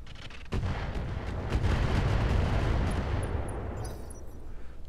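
Heavy mech weapons fire in a Roguetech BattleTech battle, a sustained rumbling barrage of booming artillery-like shots that swells after a sharp onset, then fades with faint electronic pings near the end.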